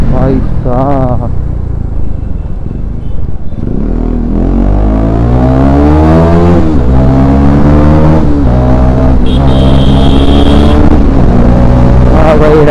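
A KTM Duke 250 motorcycle with a loud aftermarket exhaust revs hard in city traffic, its engine note climbing and dropping in repeated close, loud surges.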